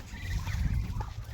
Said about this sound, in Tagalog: pakain natin ng pato